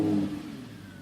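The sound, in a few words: V10 car engine starting and revving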